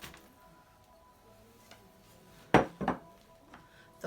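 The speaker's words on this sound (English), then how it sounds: "I'm going to get a pan and add in the mince" A metal pan clatters twice against a hob while samosa filling is cooked, with a few lighter kitchen clinks around it and a faint hum underneath.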